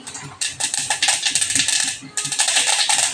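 Cumin and mustard seeds crackle and pop in hot oil for a Marathi mung dal pithla, a dense run of sharp, close, fairly loud spits with a brief lull in the middle.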